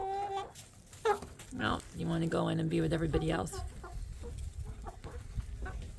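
A 15-week-old Bielefelder hen clucks and calls in short bursts close by, while a person talks over and between the calls.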